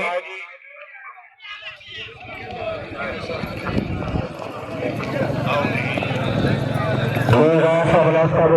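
Racehorses gallop at a Neza bazi tent-pegging event on the Ravi in Pakistan. Rapid hoofbeats drum steadily and loudly under continuous announcer speech and crowd noise.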